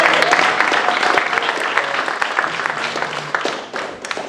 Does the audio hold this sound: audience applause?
yes